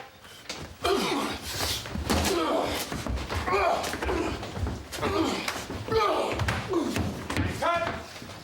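A door on a film set slams with heavy, repeated thumps and bangs amid movement and clatter, fairly close, while people talk in the background.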